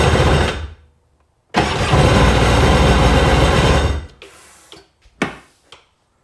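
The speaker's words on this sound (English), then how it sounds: "That engine even sounds healthy." A diesel engine blamed for one dead cylinder fires up and runs loud and close for about two and a half seconds, then a second start rumbles steadily before trailing into weaker sputters and brief bursts.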